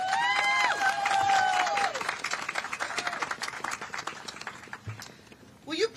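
An outdoor audience at a beach dedication ceremony applauds and cheers to welcome a county supervisor, a broad crowd clapping under whistles and scattered voices, moderately loud and spread out.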